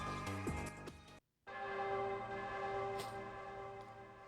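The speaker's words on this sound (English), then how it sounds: "The bell atop the tower rang for the 5th and final time, cutting the stillness of the air." A tower bell rings out for its fifth and final stroke, loud and resonant with a long ringing hum, following a brief drop to silence after earlier chiming tones; no one speaks.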